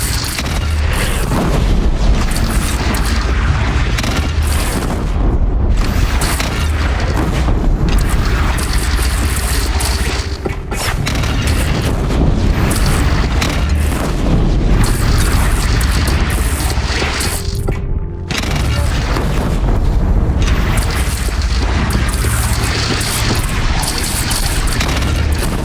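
Continuous loud battle din in Horizon Zero Dawn as a bandit clan's single cannon fires, dense repeated booms and crashes layered over a steady roar for the whole stretch, no talking.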